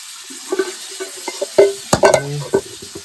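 Prawns frying in generous oil on a tawa for a home-style prawn masala, with a steady soft sizzle broken by close stirring scrapes and light clinks of a utensil against the pan.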